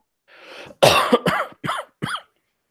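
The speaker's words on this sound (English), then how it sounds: "probably not helping your cough much." A burst of harsh coughing, about five coughs in quick succession, close and loud, with a brief pause after the first.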